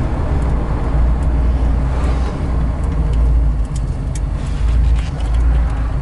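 A 1956 Chevrolet Bel Air on a test drive, its steady low engine and road rumble filling the whole stretch at a constant level, loud and close as from inside the car.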